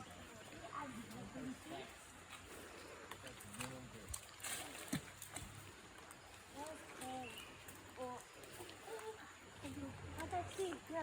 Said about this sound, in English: So this is where we are getting into the water.